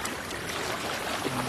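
Broad, steady rush of flowing water along a wide river during a fishing outing, continuous and fairly loud with no talking over it.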